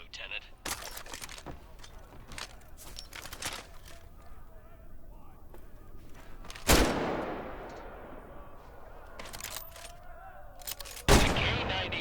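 Two sharp K98 bolt-action rifle shots ring out with decaying tails in the Medal of Honor: Above and Beyond training range, separated by several seconds of clicks and handling noise, with faint talk in the background.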